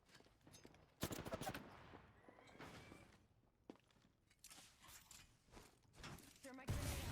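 Gunfire bursts in Apex Legends, sharp repeated shots and rattling volleys among footsteps and game clatter, with a voice speaking at moments.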